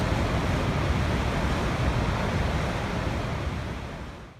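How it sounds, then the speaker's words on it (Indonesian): Rushing water at Niagara Falls on the Niagara River between Lake Erie and Lake Ontario, a steady dense roar with no breaks, loud and constant throughout and tapering off only slightly at the very end. "dan suara gemuruh air yang menggetarkan jiwa"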